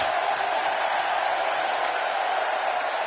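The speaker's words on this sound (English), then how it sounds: "you can bet this crowd is fired up for this match" Arena crowd in the wrestling game WWE 2K16 for Randy Orton vs Undertaker: a dense, loud, continuous roar of cheering that fills the whole stretch, with no clear individual voices.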